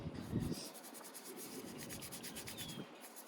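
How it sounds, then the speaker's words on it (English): A scuff pad sands the edges of an A/C vent from a 2005-2009 Ford Mustang to prep it for paint. It makes a close, steady, scratchy rubbing that keeps going for the whole stretch, with no talking. "sand it off a little bit, the edges, so that the paint could attach to it"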